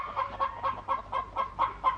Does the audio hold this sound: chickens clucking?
yes